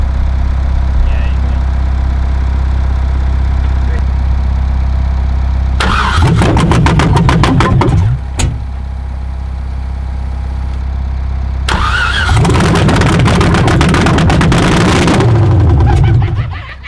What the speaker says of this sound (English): There you go, the LS now starts.